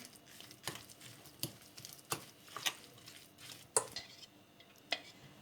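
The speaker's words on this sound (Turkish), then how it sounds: "Yine çatalla ezmeye devam ediyorum." A fork mashes semolina, walnuts, oil and egg in a bowl, giving close, irregular scraping clicks and soft squishy taps against the dish at an uneven rhythm, with no talking.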